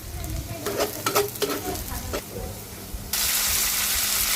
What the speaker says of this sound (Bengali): ওই তেলের মধ্যে পেঁয়াজ দিয়ে দিছি